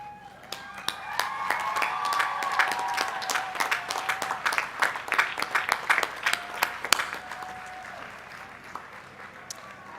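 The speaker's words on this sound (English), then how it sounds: "Graduates, please join me in recognizing the special people in your life by standing and giving them a" A commencement crowd at a Cal Poly Pomona 2014 ceremony breaks into sustained applause, dense overlapping clapping that builds and then tapers off over about ten seconds, with faint voices mixed in.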